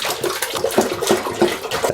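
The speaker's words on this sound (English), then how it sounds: "Pour 4 liters of milk into a pot" Four liters of milk pour steadily into a pot for mozzarella-making, a continuous liquid gush with slight gurgling surges, close and fairly loud with no voices.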